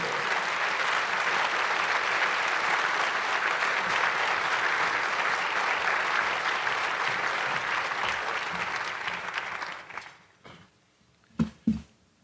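Sustained audience applause at a 2019 military honors breakfast greets a man as he walks to the stage, steady and full for about ten seconds before fading out, followed by a few brief sharp sounds near the end.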